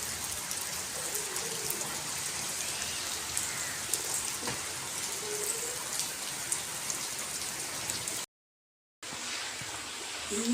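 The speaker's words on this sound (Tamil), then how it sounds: "சரியான மழைப்பா" Heavy rain pouring down steadily, a dense continuous hiss of drops striking surfaces with occasional sharper patters, close and loud, cut by a brief gap of silence near the end.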